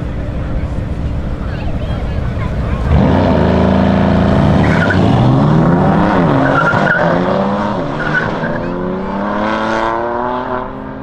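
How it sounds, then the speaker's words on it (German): Mercedes C63 AMG and BMW M3 drag racing: a loud engine roar rises sharply after a few seconds, revs sweeping up through gears with tire squeal, close and dominant, with voices faintly mixed in. "So, die zwei Heckschleuder, Mercedes C63 AMG gegen BMW M3."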